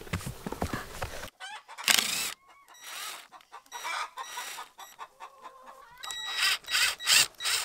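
Hens let out to roam outdoors inside a netted run cluck in short bursts with varied pitch, fairly close, with quiet gaps between calls and no talking.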